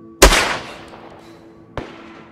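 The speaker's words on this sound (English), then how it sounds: "That's me shooting." Two sharp gunshots in the DayZ video game: a loud, close first shot with a long ringing decay, then a quieter second shot about a second and a half later.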